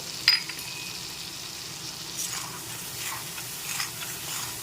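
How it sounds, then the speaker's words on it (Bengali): A spice paste with turmeric sautés in a pan for a rohu fish curry: a soft, low sizzle with faint stirring scrapes, one sharp clink near the start, and no talk. "এখন একটু নেড়ে ছেড়ে কষিয়ে নিচ্ছি মশলাটাকে"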